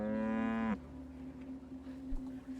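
A cow moos once in the video game Riddlewood Manor: a loud, close, drawn-out call lasting under a second, followed by a steady low background hum with no talking.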